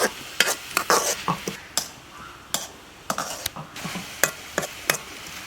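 A spoon stirs sliced onions with crushed salt and chili in a pan for Kerala-style onion stir fry, a run of sharp scraping clicks and soft sizzle in irregular bursts, close and fairly loud with no talk.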